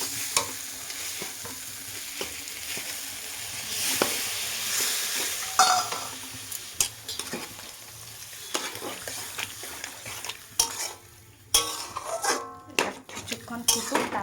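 Potato and soybean curry simmers in a pot, with a steady bubbling sizzle, repeated stirring, and clinks and scrapes of a utensil against metal. The sound is close and moderately loud throughout, with a little faint speech.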